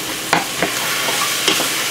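Butter sizzling in a pan of Ritz-and-Parmesan-crusted almaco jack fish fillets, a steady close frying hiss broken by a few soft scraping stirs.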